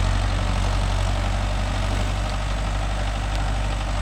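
A Mahindra Yuvo Tech Plus 585 4WD tractor engine runs steadily with a deep low rumble and vibration while working a 5-point cultivator, loud and continuous with no talk.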